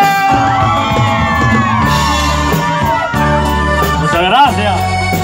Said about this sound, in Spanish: Y ese grito de las mujeres.